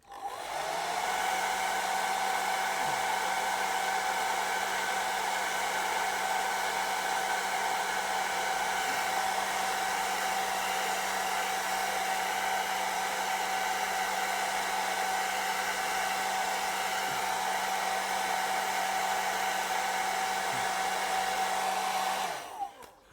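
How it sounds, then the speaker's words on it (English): A hair dryer blows steadily on false eyelashes, a loud continuous whooshing hum with a constant motor whine, running alone for over twenty seconds before switching off. "we'll do a little bit of the hairdryer just to seal them and curl."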